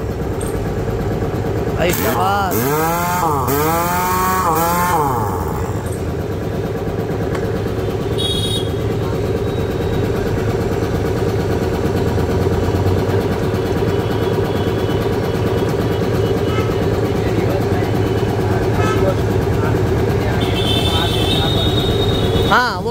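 A Godrej 2 HP electric motor on a 500-pound-tank 3 HP air compressor runs with a loud, steady hum and whine, switched between reverse and forward, with a brief rising and falling squeal near the start and someone speaking briefly.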